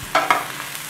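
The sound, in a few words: stir-frying cluster beans (gavar) in a pan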